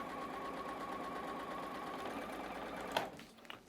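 A sewing machine stitching a quarter-inch seam on a fabric quilt block hums steadily and close for about three seconds, then stops with a sharp click and a short rustle.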